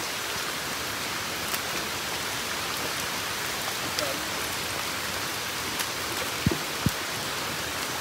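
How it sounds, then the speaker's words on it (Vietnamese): Heavy forest rain, a thick unbroken roar of falling water from start to end, with a couple of faint knocks near the close and no voices. "Mưa lớn rồi đó. Mưa lớn lắm đó nha."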